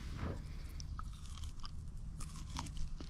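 Someone eating hot cooked potatoes outdoors in a forest, with close, soft crunching and chewing bites scattered over about three seconds against a quiet background.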